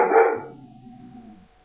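A dog lets out one short, close bark with a faint whine trailing after it.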